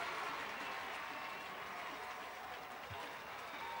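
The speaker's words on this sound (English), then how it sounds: "descending the steps to thunderous applause" Thunderous applause from a large outdoor crowd at the March on Washington 50th anniversary ceremony as the president and first lady descend steps, a steady dense wash of clapping throughout.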